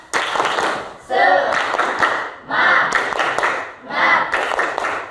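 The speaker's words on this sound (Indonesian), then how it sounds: "yuk kita tepuk semangat dulu biar lebih semangat lagi" Classroom group performing the 'tepuk semangat' spirit clap, bursts of unison hand clapping in rhythmic phrases separated by short gaps, with children's chanting voices mixed in among the claps.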